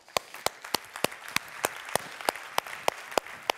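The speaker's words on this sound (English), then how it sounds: "Give yourselves a round of applause." A self-congratulating audience at a leadership and employee experience event claps in slow, separate beats, about a dozen distinct claps spread evenly over a few seconds with light murmur between them.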